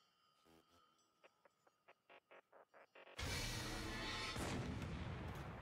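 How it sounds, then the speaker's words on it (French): A single loud cannon blast from the anime Attack on Titan booms in after a run of short rhythmic clicks, then rolls on as a sustained, dense rumble until the end. "un coup de canon. Pourquoi un seul?"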